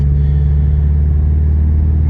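A Subaru Forester driving, heard as a loud, steady, low engine rumble from inside the car, with no distinct gear change and no talking.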